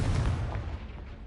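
Confringo blast spell cast in the video game Hogwarts Legacy lands as a single deep, booming explosion that rumbles and fades over about a second.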